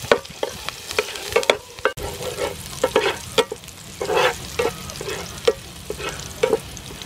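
Chopped garlic sizzles and gets stirred in hot soybean oil, the start of a mussel and young green pepper stir-fry, with a steady frying hiss broken by repeated sharp scrapes and clacks of a utensil against the pan.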